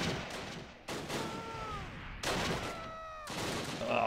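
Bursts of gunfire from a rifle group's Bren light machine gun in the Close Combat war game at Arnhem, several sharp volleys with ringing tails, fairly faint and without talk.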